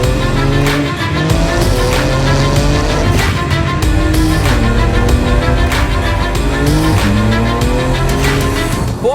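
A Porsche 911 GT2 RS driven hard on a race track, loud engine roaring and shifting up and down through the gears, with tire squeal and continuous high-speed rush, close and sustained.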